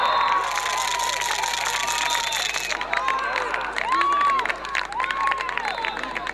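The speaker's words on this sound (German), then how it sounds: "Der Jubel ist bei den Gästen entsprechend groß." Visiting fans cheer and shout after a goal in a men's field hockey Bundesliga match, a broad roar of crowd voices and whistles that stays loud throughout, with scattered clapping.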